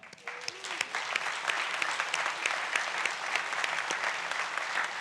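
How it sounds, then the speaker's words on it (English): A big round of applause at a Fort Worth city council meeting, dense clapping from many hands that starts abruptly and continues steadily at moderate loudness throughout, with no talk over it. "let's give them a big round of applause"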